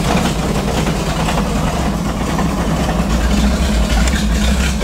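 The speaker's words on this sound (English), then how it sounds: "there's the engine. Starts up nice. Sounds pretty nice at idle." A car engine idles steadily with a low, even rumble, close and loud, with no voices.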